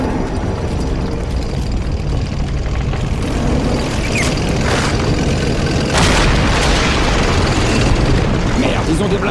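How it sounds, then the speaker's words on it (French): An anti-tank gun fires amid explosions in the Company of Heroes war game, with dense rumbling battle noise and several sharp blasts. "Canon anti-char prêt à tirer."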